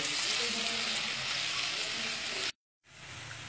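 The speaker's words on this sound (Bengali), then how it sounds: "গোল্ডেন ব্রাউন করে পেঁয়াজটাকে আমি প্রথমে ভাজবো" Chopped onions fry in hot oil toward golden brown with a steady, close sizzle that cuts off abruptly, then resumes more quietly after a brief silence.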